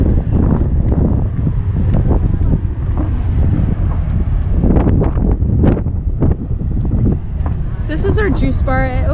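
Strong wind buffets the microphone on the open deck of a Semester at Sea cruise ship, a steady loud roar throughout, with a voice talking over it and brief higher tones near the end.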